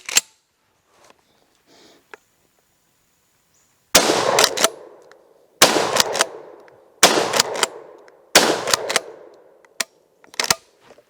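A McCoy PAS12 Turkish pump shotgun is fired outdoors. About five sharp, loud reports come at a steady pace roughly a second and a half apart, each trailing into a short echo, with quiet stretches between.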